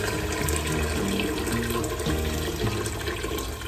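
Heated water pours and splashes steadily into a cooking pot for lentil stew, a continuous rushing stream close by for the whole stretch, with no talking.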